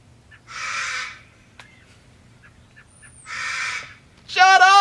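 Harsh cawing calls from a nearby bird come in separate bursts with quiet gaps between, ending in a louder, higher squawk.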